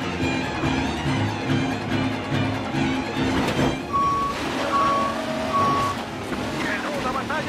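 A water tanker truck in the Mafia Remake game sounds repeated steady reversing beeps, evenly spaced, over engine rumble and loud excited talk.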